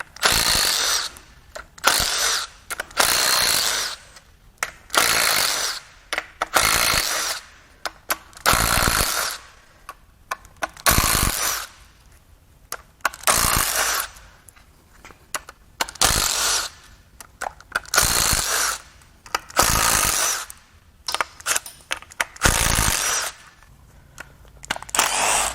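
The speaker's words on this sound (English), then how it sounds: "Now we're going to pull all the timing cover bolts out." A power tool runs in loud, repeated bursts as it backs out the timing cover bolts on a Mercedes OM642 3.0L V6 turbodiesel engine during a teardown, with short pauses between each bolt.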